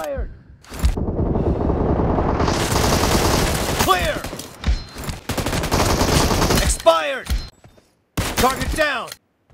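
Gunfire rattles in PUBG Mobile during team deathmatch, with long rapid automatic bursts and short separate volleys broken by brief pauses, loud and close, with voices speaking between shots.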